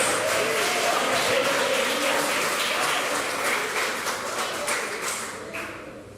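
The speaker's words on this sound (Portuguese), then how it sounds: "vai dar uma salva de palmas acompanhada com glória a Deus" A church congregation gives a dense, steady round of applause mixed with voices calling out praise, sustained throughout and tapering slightly at the end.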